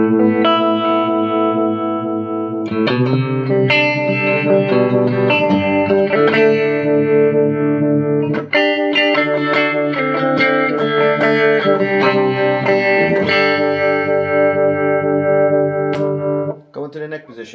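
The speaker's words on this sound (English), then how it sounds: "Okay, let's add a little reverb." Electric guitar played through a JR Rocket Boing reverb pedal, sustained chords and single notes ringing out with a lush spring-like tail, loud and close, without speech over the playing.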